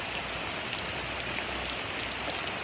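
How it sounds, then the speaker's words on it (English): Steady rain sweeps in over a garden pond, a dense, even hiss of drops hitting water and surfaces throughout, close and unbroken. "the rain's coming in, so that's me gone"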